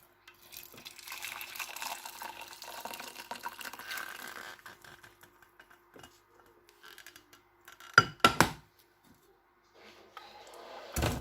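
Rosehip tea pours steadily into a cup for a few seconds, soft and close, followed by a couple of sharp clinks of dishware.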